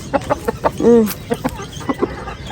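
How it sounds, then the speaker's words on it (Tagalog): Chickens cluck in short repeated bursts nearby, with one louder drawn-out squawk partway through amid soft background noise. "Pakain tayo ng manok mga day."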